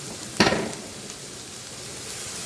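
Minced garlic dropped into hot ghee in a pan gives a sudden burst of sizzling that quickly settles into a steady, soft frying hiss, close by with no talking.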